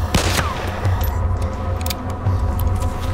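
Gunfire in the video game DayZ crackles as a loud, close burst of rapid shots at the start, followed by scattered sharper reports over a steady background din.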